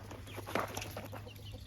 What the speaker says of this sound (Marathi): फक्त ह्या ज्या गावरान कोंबड्या आहेत, देशी कोंबड्या